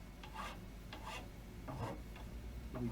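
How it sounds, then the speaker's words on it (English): Hand sanding of a part being reshaped, a rough rasping rub in about four separate strokes, each lasting around half a second, close and steady with no talking. "Give her a bit of a sand up."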